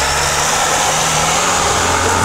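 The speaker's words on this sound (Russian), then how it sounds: "Нива заехала." A Lada Niva on narrow 175 tyres, its engine droning and revving steadily while driving along a snowy route, loud and continuous throughout.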